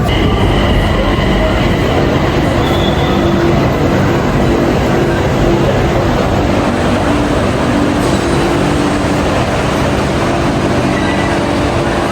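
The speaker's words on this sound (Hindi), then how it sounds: "आए तो हम लोगों ने ट्रेन ले लिया है अभी।" A Bangkok train rolls from Siam toward National Stadium, heard from inside the carriage as a loud, steady rumble and hum with rail noise throughout.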